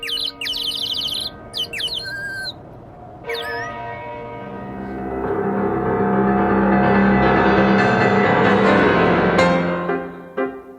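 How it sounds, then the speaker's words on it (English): An enormous bell is struck, and a rich, sustained resonant ringing with dense overtones swells and holds for several seconds before cutting off. Brief squeaky chirping sounds come before it. "banging his head fruitlessly but with a splendid sense of rhythm against a really amazingly large bell"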